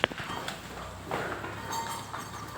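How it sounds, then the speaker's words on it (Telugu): A herd of buffaloes walks past on a village road, their hooves clopping steadily and unevenly, close by, with no talk over it. "చూడండి ఇన్ని బర్రెలు, చాలా బర్రెలు ఉంటాయి."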